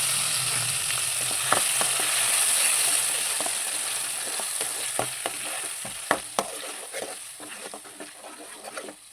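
Curry leaves frying in a pan for tender jackfruit sukka: a steady hissing sizzle close by, with scattered spatula scrapes and taps becoming more frequent in the second half.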